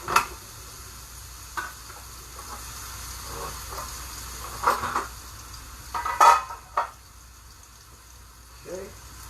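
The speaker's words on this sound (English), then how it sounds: "Now we're gonna stir this up in here" Spoon stirring rice, mushrooms and peas in a pot, faint scraping and clinks against the metal with a few sharper knocks, over a quiet kitchen hum.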